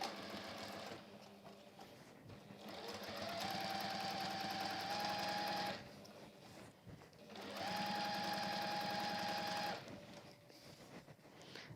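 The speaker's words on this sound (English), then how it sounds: "fold it under like that and top stitch down." A sewing machine top-stitching folded fabric runs in two long, even bursts of rapid needle chatter with a steady motor whine, separated by brief pauses, close and clear.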